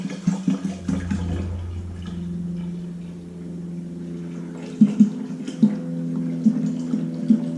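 Liquid poured into a cyser fermenter for mead, with a low hollow gurgling glug and splashing that run steadily, then rhythmic knocking glugs toward the end, close and moderately loud.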